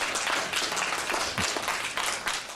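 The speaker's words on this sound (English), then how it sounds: "Clap, clap, clap." An audience claps at the close of a talk, a dense, even round of applause filling the whole stretch at steady loudness.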